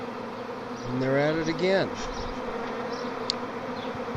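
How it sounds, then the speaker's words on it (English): A swarm of a neighbour's honeybees hums in a brief rising, wavering buzz that swells and fades in about a second, near and moderately loud, while a voice speaks briefly over it. "These are my neighbor's bees. They swarmed 16 days ago."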